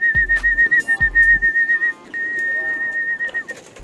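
Racing pigeons arrive at a loft during combine training, with soft coos and a few low landing thumps beneath a steady, high whistle-like tone that runs almost the whole time.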